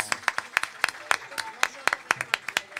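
An audience at a Super Street Fighter II X 3-on-3 team tournament final claps for the winning team, sharp individual handclaps coming in an uneven, sparse rhythm, close and fairly loud.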